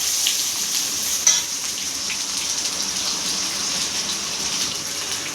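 Onions dropped into hot oil in a pan with dried red chillies, giving a steady close hiss and crackle of frying, with one brief clatter near the start and no talk.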